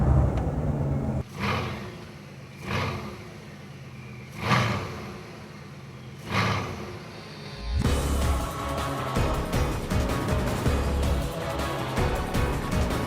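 Bugatti Veyron engine on the move, with a run of evenly spaced whooshing swells as the car passes something, then a loud steady rumbling cabin drone.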